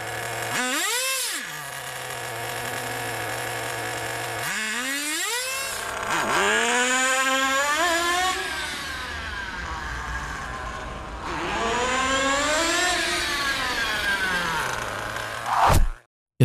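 An HPI G3.0 nitro engine in a small-block RC car, set rich, revs up in several rising and falling bursts with a buzzy, harmonic whine, settling briefly toward idle between pulls, close and loud, ending in a sharp blip and cutoff.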